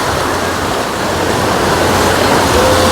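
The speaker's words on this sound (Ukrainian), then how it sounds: "Море трішечки хвилюється, повиносила мідії, доміки від мідії." Sea waves wash steadily onto a crowded beach where the water is slightly choppy, a continuous broadband roar of surf with no breaks, fairly loud and close.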